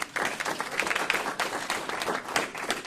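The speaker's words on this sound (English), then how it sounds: "yes, a clap, please." Audience applause at a county leaders' public briefing, a short burst of many people clapping irregularly, fairly close and lively, rising and falling without speech.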